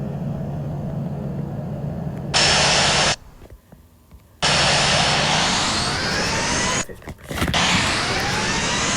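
A video game airplane's engine roars loudly and harshly, cutting out abruptly twice for a second or so before resuming at full volume, with a brief dip near the end.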